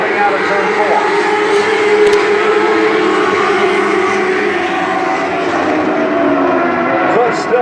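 Modified lite race cars roar steadily around a dirt oval during a heat race, a dense continuous engine drone from the pack, loud and sustained throughout.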